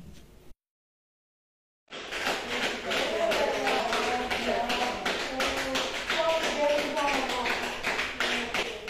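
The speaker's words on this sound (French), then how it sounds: "Ces acclamations nourries et répétées de l'assistance" Sustained, repeated cheering and applause from a gathered crowd outside a general hospital in Pointe-Noire, Republic of Congo, greeting a patient discharged after recovering from COVID-19; brief silence, then dense clapping and voices filling the rest.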